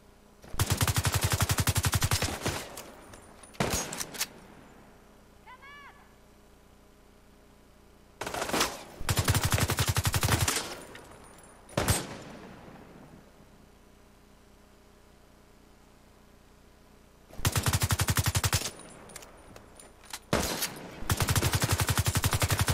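Automatic gunfire from the video game Tom Clancy's The Division 2 comes in loud, sustained bursts of rapid shots, broken by quieter pauses with sharp single reports.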